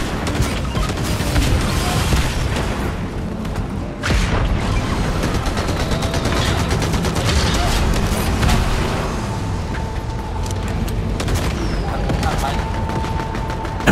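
Sustained rapid machine gun fire from a mounted vehicle gun in Fortnite, loud and continuous for many seconds with booms and vehicle rumble mixed in.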